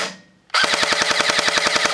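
A G&G GR4 G26 airsoft rifle fires a rapid full-auto burst with its small pneumatic blowback, loud, close and evenly ticking for about a second and a half after a quiet start.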